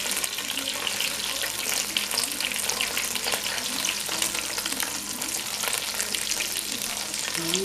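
Beef short ribs sear in a hot pan, a loud, continuous sizzle and crackle that stays close and steady throughout, with no talking.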